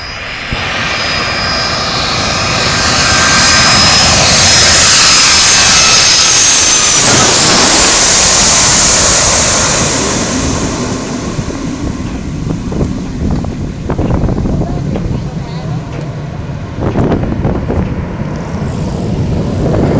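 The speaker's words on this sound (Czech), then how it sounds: "za mnou už přistává další letadlo" An airplane comes in low over the beach on its landing approach at Skiathos island, its jet engines swelling into a loud, close roar mixed with wind buffeting, then slowly fading away as it passes.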